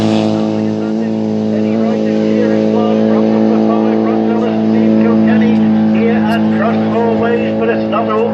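Racing cars coming down the track toward a commentator, a loud, continuous, buzzing engine drone with a steady harmonic whine that swells slightly as they approach, with a commentator talking over it.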